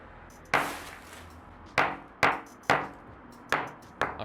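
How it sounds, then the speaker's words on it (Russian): Six sharp metallic hammer strikes on heated lighter flint ring out at uneven intervals, each a loud crack with a brief fizzing tail, no voices in between. "Если нагреть и потом ударить молотком, жесть получается."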